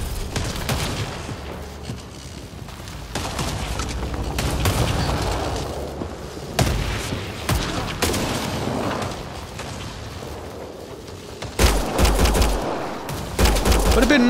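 Repeated gunfire in Mass Effect Andromeda, a player shooting at rocks, with bursts and single shots cracking throughout, heavy low thumps near the end, a voice speaking briefly between volleys.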